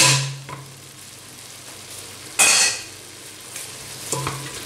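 Cooked, drained rice being mixed in a pan for Cantonese rice, with a constant soft sizzle beneath scraping stir strokes and a louder stroke near the middle.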